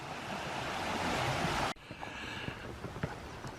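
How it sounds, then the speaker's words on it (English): A river near a farmhouse on a countryside ramble around Dunsop Bridge rushes in a broad steady wash, then drops abruptly to a quieter flowing murmur with small splashes and wind buffets. "you can maybe hear the river there"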